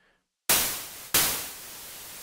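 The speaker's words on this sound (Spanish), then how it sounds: "Simplemente es ruido blanco." White noise from an operator in an FL Studio synth, played as two loud broadband hiss bursts after a moment of silence, each starting sharply and then slowly decaying while holding a sustained tail.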